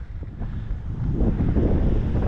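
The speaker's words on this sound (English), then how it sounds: "It's pretty windy and chilly" Strong wind on a chilly beach at Canaveral National Seashore, buffeting the microphone with a loud, low, continuous rumble that builds and stays heavy throughout.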